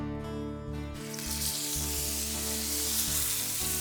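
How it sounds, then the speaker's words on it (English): Meat searing in hot rippling vegetable oil in a pan gives a steady, loud broadband sizzle that builds and holds, close and alone, with a low hum underneath. "When the oil ripples, the pan is hot enough to add the meat"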